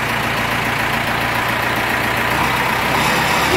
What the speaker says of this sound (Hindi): तो अभी देखते हैं गाड़ी स्टार्ट करके मशीन आगे पीछे हो रहा है या नहीं हो रहा है।